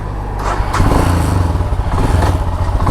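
A Royal Enfield motorcycle engine runs close by with a rhythmic thumping idle and clattery mechanical rattle from a loose chain case nut causing vibration.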